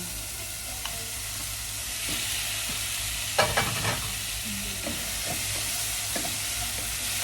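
Chicken sizzles in hot ghee, a steady frying hiss with a burst of clattering as pieces are stirred around the pan.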